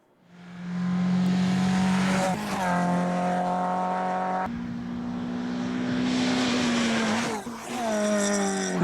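A classic Mini fitted with a Suzuki engine and 5-speed gearbox drives hard, its engine droning loudly and rising in pitch through the gears, with clear shifts and a brief dip near the end.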